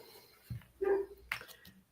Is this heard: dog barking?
yes